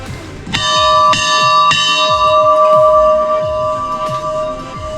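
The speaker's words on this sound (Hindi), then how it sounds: "घंटा इतना सारा लगा हुआ है।" Temple bells at Jhula Devi temple are struck several times in quick succession. The loud, bright metallic tones overlap and ring on with a long, shimmering decay.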